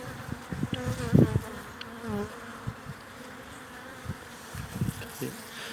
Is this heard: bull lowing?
no